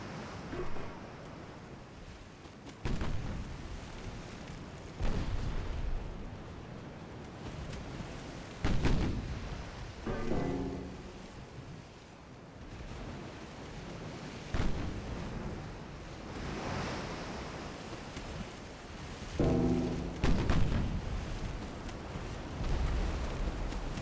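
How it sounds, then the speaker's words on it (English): Naval deck guns and casemate guns firing in UAD Dreadnoughts, several heavy booming shots spaced irregularly over a constant wash of sea and wind, loud and distant-sounding, with no talk. "And both guns are firing even at this angle"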